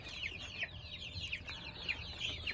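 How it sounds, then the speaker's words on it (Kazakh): Kuchinskaya Jubilee chicks cheep in a quick run of high, thin peeps, fairly faint and close together, with no voices over them. "Міне балапандар жақсы."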